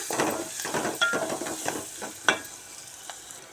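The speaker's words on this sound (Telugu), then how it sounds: "ఇవి ఎర్రగా వేయించుకోవాలి" Beans frying in a pan until reddened, a steady close sizzle broken by rhythmic stirring scrapes and taps of a spoon, with a sharper knock midway, no talk.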